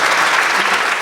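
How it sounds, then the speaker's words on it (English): Audience applause at a community sports awards celebration, a dense steady wash of clapping filling the whole second with no voices over it. "have a round of applause for that"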